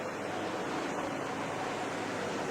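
Sea waves wash steadily below the cliffs of the Amalfi Coast near Sorrento, a continuous even roar of surf mixed with wind, with no talking.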